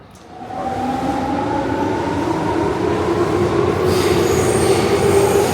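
A Tokyo subway train rolls loudly through a station, its rumble swelling quickly and holding steady, with rising squealing tones from the wheels and motors.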